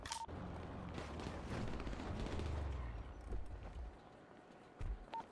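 Video game gunfire from players shooting at a garage and rooftop near a city, scattered distant pops and booms over a low rumbling background, faint and irregular.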